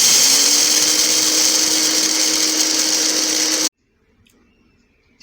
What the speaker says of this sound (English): I'm going to blend it into powdered form.